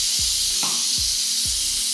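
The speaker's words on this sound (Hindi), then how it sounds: "स्टीम इसकी निकाल के हम इसको खोल लेंगे" Steam hisses loudly and steadily from a pressure cooker holding chicken drumsticks, a continuous close rush with a few low thumps underneath.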